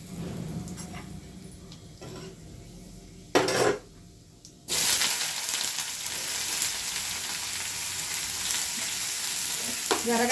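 Mustard seeds and spices frying in hot oil in a pan for an egg masala curry, a steady close sizzle with a brief burst and a louder crackling surge partway through, no talking.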